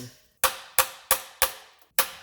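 A hammer strikes a vice grip clamped on the rotted lip of a lower oil pan on a 2012 Dodge Grand Caravan 3.6 L V6, five sharp metallic blows at a steady pace, close and loud.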